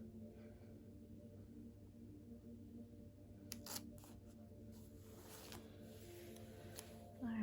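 Scissors cut through a flamingo sticker sheet for a planner: a few soft, close snipping and crinkling sounds in the second half over a quiet room hum.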